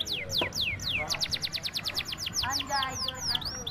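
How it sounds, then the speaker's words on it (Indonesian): A canary sings in rapid, bright chirping trills, close and fairly loud, with quick repeated sweeping notes and low voices faintly underneath. "Ini kita bawa kenari kita"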